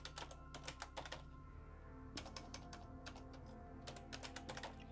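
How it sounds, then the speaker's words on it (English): Rapid clicking of computer keyboard keys as text is typed in bursts, with short pauses between runs, close and moderately loud over a low steady hum. "And it'd be good if I knew how to type."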